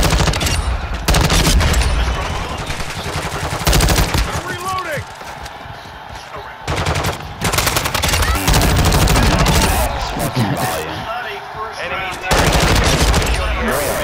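Loud, sustained automatic gunfire in Call of Duty: Modern Warfare II, long rattling bursts broken by short pauses, with game sounds layered over it.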